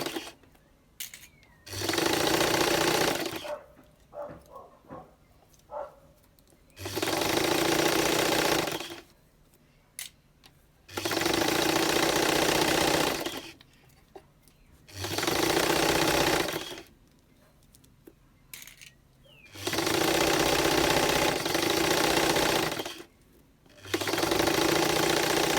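A sewing machine back stitching a bodice runs in several loud, separate bursts, each a few seconds long, with pauses and small handling noises between them.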